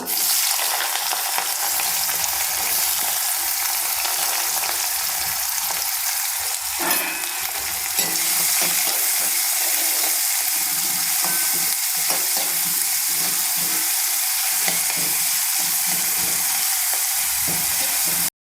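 Sliced onions sizzle steadily in hot oil in a pan while the dish is stirred now and then. The frying hiss is loud and continuous throughout, with soft scraping noises under it and no voices.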